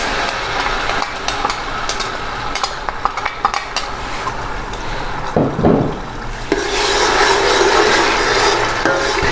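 Onions frying in hot oil in a pan for a taro masala, with scraping and rubbing of a spoon against the pan, then a steadier sizzle building louder toward the end.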